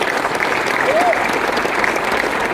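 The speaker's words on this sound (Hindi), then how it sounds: "प्लीज उनके लिए एक जोरदार तालियां" Loud, dense crowd applause fills a business achievers' recognition event, a steady wash of clapping hands that runs unbroken from start to finish.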